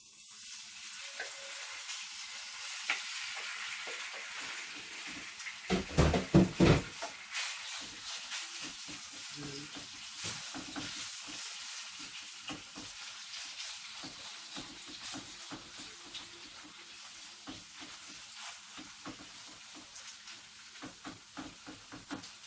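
Pork belly frying and sizzling in a hot pan, a steady soft hiss with a louder burst of crackling and stirring clatter partway through, otherwise quiet and continuous.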